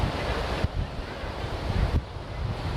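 Ocean waves surge and crash against rocks at a rough exit point with stairs, a continuous loud roar of surf with two sharper break surges, wind buffeting the microphone throughout and no talking.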